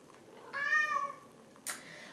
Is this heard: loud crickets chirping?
no